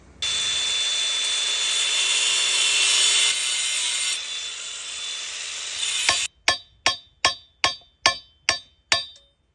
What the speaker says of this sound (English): I'll cut open the bearing here, and you just got to be careful.